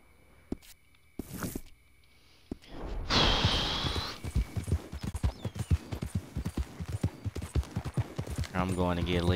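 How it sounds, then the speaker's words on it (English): Horse hooves clip-clopping at a walk in the video game Red Dead Redemption 2 on Xbox One, a steady run of close, distinct hoof knocks following a brief louder rushing burst. "So now I'm just taking this random horse back home."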